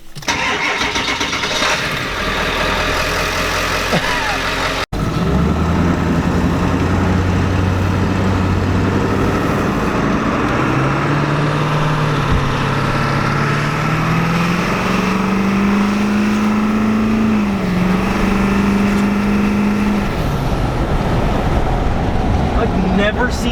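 A Ford 7.3 Powerstroke diesel truck with a pusher intake manifold cranks and fires at about five seconds, then idles and revs, its engine tone climbing in steps as it pulls away, loud and close throughout the clip.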